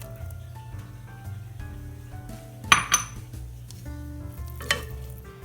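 Cold cooked flaked halibut goes into a thick, boiling white sauce in a pan, with close metal utensil clinks and scraping against the pan and a couple of sharper clatters midway.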